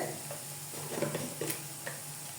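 Samosa filling being sautéed in a pan, with soft sizzling and intermittent scraping stirs of a spatula, fairly quiet and close.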